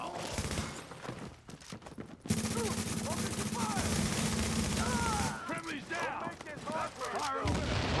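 Bursts of rapid gunshots crackling through a dense wash of battle noise, loud and sustained with brief lulls, as voices talk over the action.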